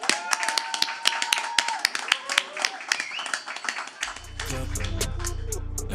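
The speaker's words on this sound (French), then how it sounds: "Tout le monde applaudit Jeune Slow." Scattered hand claps for a guest on a French podcast, a few people clapping unevenly under chatter, then a deep thumping music beat comes in.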